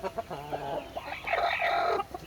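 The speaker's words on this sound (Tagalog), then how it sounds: "Limlim na ang aking inahin." A brooding hen clucks close by in a backyard, a series of low, throaty, rhythmic clucks followed by a longer rising, drawn-out vocalization, with no talking.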